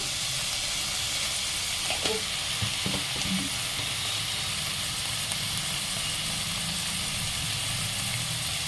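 Capsicum with dried fish cooking in a pan, a dense, constant sizzle filling the whole stretch with a few faint knocks of stirring, no voices.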